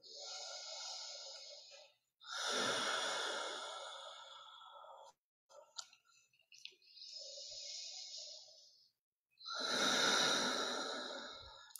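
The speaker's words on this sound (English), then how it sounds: "Let the breath move you." Slow, deep breaths during seated chair yoga, with long airy inhales and exhales alternating in a steady cycle, close and soft with no voices.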